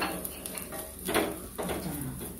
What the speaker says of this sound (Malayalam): ഇത്രയും സാധനങ്ങൾ ഇതിലിട്ടിട്ട് കടുക് നന്നായിട്ട് വഴറ്റിയിട്ടുണ്ട്